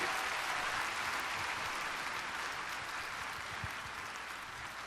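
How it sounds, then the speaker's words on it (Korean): Applause from a church congregation welcoming a singer to the stage, a steady even wash of clapping that stays fairly faint throughout with no talk over it. "박수로 맞이합시다."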